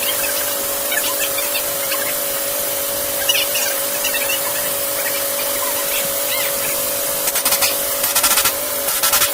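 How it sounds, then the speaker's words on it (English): An air compressor on a truck runs steadily through the whole stretch, giving a constant mechanical hum laced with broad hiss, with a few faint clicks and rattles near the end and no talking. "the noise you hear in the background in most of the video is the compressor on his truck"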